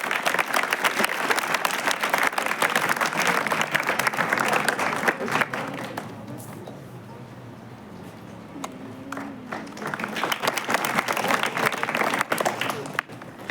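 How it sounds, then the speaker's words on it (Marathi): Audience applauding at a school reading-room naming ceremony, sustained dense clapping that fades into a quieter lull mid-way, then swells again into loud applause toward the end. "जोरदार टाळ्या वाजवूया आपण."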